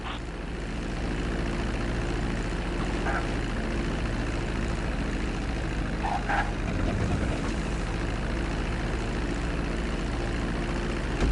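Airplane engines in GTA 5 as the plane comes in to land on the runway: a steady, loud droning hum holding throughout with faint mechanical clicks, no talking.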